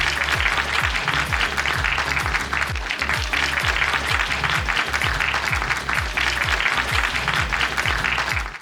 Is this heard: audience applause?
yes